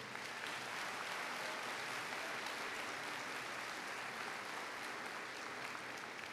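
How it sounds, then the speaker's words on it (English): A large audience at a high school graduation ceremony applauds for the school staff in a continuous, even roar of clapping that holds steady throughout, distant and dense with no single claps standing out. "Let's give our staff a big round of applause."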